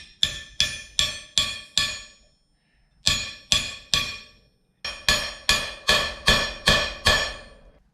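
A hammer strikes a pin punch to drive wheel studs into a wheel hub on a Toyota FJ45, making ringing metallic clangs in quick bursts of four to six evenly spaced blows with short pauses between sets.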